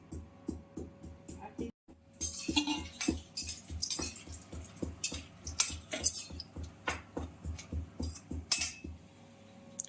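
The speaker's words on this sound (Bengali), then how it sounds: "এদিকে আদা থেতো হচ্ছে।" Ginger is crushed with a steady series of close, dull thumps, each followed by light metallic clinks, in a home kitchen.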